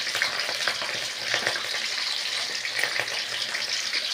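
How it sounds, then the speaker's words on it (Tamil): Mustard seeds spluttering in hot oil in a pan, a continuous close crackle and hiss with small irregular pops, no voices over it. "கடுகு பொரிஞ்சிருச்சு"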